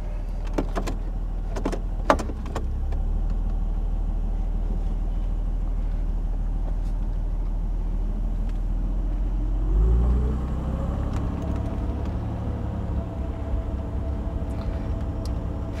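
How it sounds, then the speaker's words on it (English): A 1966 Mercedes-Benz W112 300SE engine runs at a steady idle with a low, constant hum, a few sharp clicks early on, and a brief swell in revs partway through. "Car starts beautifully."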